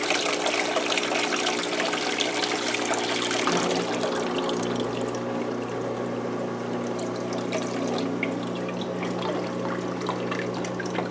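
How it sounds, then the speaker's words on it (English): An LG WM0642HW front-loading washer fills its tub, with a continuous loud hiss of incoming water and a steady low hum, close and unbroken, changing slightly in tone partway through. "Filling up the tub."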